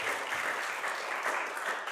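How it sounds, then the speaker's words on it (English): A church congregation applauds the music team during a worship celebration, a dense, steady wash of many hands clapping throughout. "Our music team, I'm just clapping for that."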